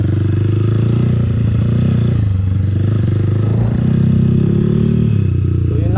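A close motorcycle engine runs loudly and continuously, its tone rising and dropping as the throttle is worked, with some mechanical clatter throughout.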